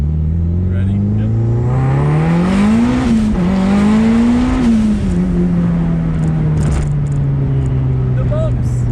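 A Mitsubishi Evo 5 tuned past 500 all-wheel horsepower accelerates hard, heard from inside the car. The loud engine note climbs steeply, dips at a gear change and climbs again before settling into a steady high drone.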